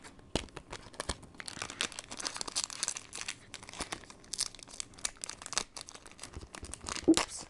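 Foil Pokémon booster packs from a Hail Blizzard box being torn open by hand, a close, continuous crinkling and ripping with sharp tearing bursts and rustling, no voices.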